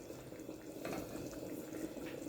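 A little water splashes and sizzles into simmering picadillo in a pan, a steady soft wash of liquid and bubbling heard close and quiet, with no talking.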